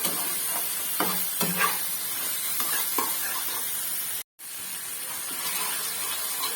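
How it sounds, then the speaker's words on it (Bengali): Soy sauce being fried and stirred in a pan for chilli paneer, a steady hissing sizzle with a few light scraping strokes. There is a brief dropout near the middle. "সসটাকে একটু ভেজে নিতে হবে। এইভাবে একটু ভেজে নেব"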